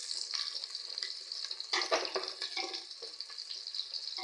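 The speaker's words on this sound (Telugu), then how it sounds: "కొంచెం బ్రౌన్ కలర్ వచ్చేంత వరకు వేయించుకుందాం" Onions frying in a pan with kasuri methi and a green chili, giving a steady close sizzle with occasional stirring scrapes.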